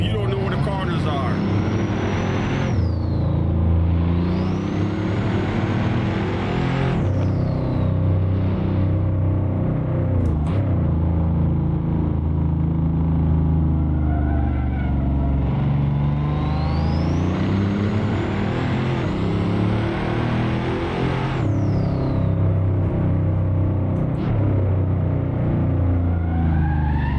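A Pagani hypercar in the Assetto Corsa racing game sliding loosely on the road, its engine droning and rising and falling in pitch throughout, with a voice talking over it.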